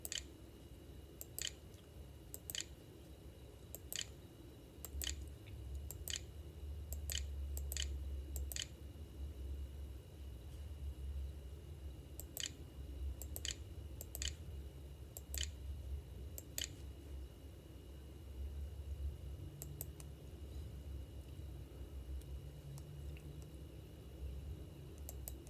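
Someone types on a computer keyboard, producing faint, crisp key clicks in irregular bursts separated by pauses, over a low background hum, with no talking.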